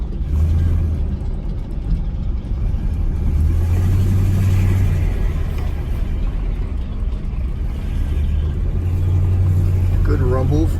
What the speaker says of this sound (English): Good rumble from the dual exhaust.